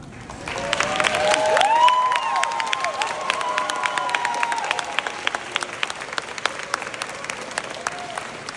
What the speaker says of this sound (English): give your family and friends a huge round of applause